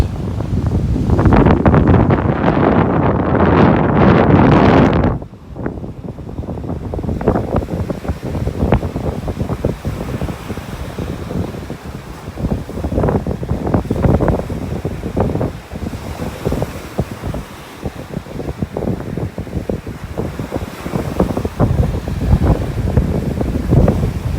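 Strong wind buffeting the microphone on a beach in North Naples, Florida, a loud roar for the first five seconds, then gusty rumbling with faint surf underneath, no one speaking.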